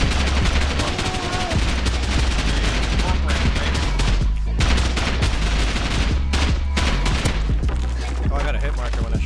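Gunshots ring out in the game Rust, dense rapid bursts of automatic fire mixed with single shots, loud and continuous with voices talking underneath.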